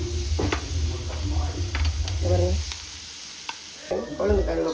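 Curry leaves and onions sautéing in a pan for a sweet potato dish, with a steady close sizzle and frying crackle, scraping stirs throughout, and a brief dip before the sizzle picks back up.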